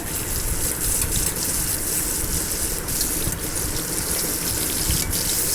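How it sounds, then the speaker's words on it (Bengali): Pieces of eggplant fry in hot oil with a constant dense sizzle and crackle, close and steady throughout with no talk. "এখন ভাজি করব বেগুনগুলো লাল লাল করে"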